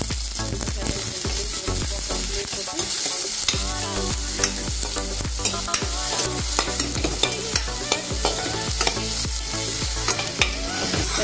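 Onions fry with curry leaves, coriander and asafoetida in oil for kuzhambu, a continuous close sizzle broken by frequent clattering spoon strokes that keep an uneven rhythm, with no speech.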